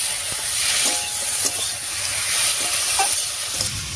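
Ground spice paste, slit green chillies and vegetables frying in a pan for a river fish curry, stirred with a few soft scraping strokes under a continuous loud sizzle and hiss, with no talking.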